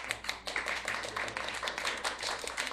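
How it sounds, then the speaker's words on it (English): A town hall audience gives a short round of applause for a candidate, a modest scattering of hand claps from a small crowd, fairly quiet and steady throughout. "So a round of applause for Ms. Sarah Pierre."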